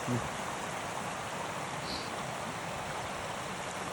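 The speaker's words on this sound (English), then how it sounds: "These beautiful little waterfalls here." Continuous rushing and splashing of small mountain waterfalls in winter, a steady even hiss of falling water close by with no other sounds.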